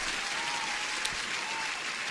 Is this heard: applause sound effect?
yes